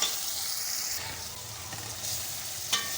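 Tomatoes and spices sizzle steadily in a hot pan for chana dal chicken feet, with a bright continuous fry hiss and occasional stirring scrapes, close up and without talk.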